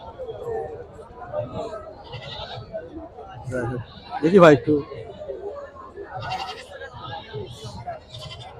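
Several goats bleat amid a crowded market, their wavering cries rising over constant nearby chatter, while someone speaks briefly.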